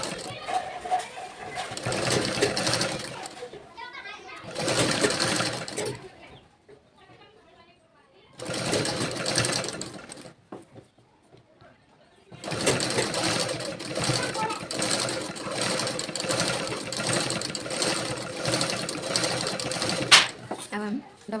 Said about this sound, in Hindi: हम डबल सिलाई कर देंगे।